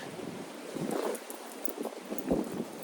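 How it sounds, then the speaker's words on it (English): Gusty wind buffets the microphone outdoors on a cold day, a rough rushing noise that rises and falls in uneven bursts. "it's cold today. Man, that wind."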